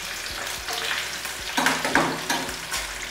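Onions stir-frying in a hot pan on a high flame for Kolkata-style chilli paneer, a steady close sizzle with several scraping stirs of a spatula, no voices.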